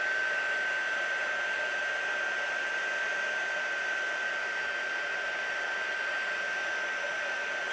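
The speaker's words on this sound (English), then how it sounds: "first layer of clear embossing powder, and then we're just going to heat set it" A heat tool blows steadily while melting clear embossing powder, a continuous even airy whoosh with a thin whine running unbroken and close throughout.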